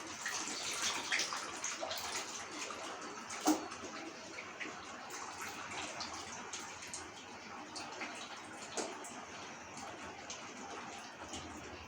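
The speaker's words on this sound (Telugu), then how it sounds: "మనం నానబెట్టుకున్న చింతపండు పులుసు వేసుకోవాలి" Soaked tamarind extract pours into a fish curry, a steady faint splashing trickle of liquid with a few louder drips, with no talking.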